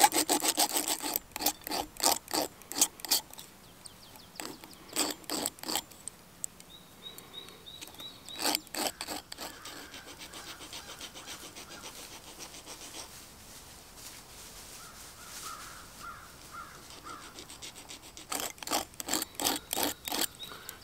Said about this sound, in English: I just have to use my little file here